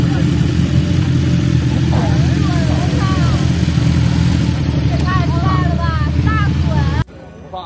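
A motorcycle engine runs steadily and loud at close range, with a low continuous rumble and rising whine tones, cutting off abruptly near the end.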